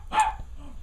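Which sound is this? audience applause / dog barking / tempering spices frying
dog barking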